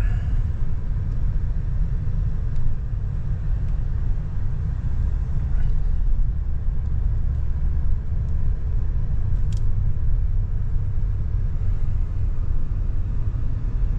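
In a truck lot, a heavy truck engine idles with a steady, deep low rumble that stays unchanged and close throughout.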